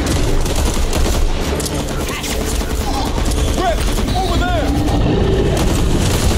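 Dense, continuous gunfire in Back 4 Blood rattles without pause, loud and close, with warbling cries and chaotic effects over the shooting.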